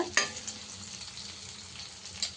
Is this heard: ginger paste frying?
yes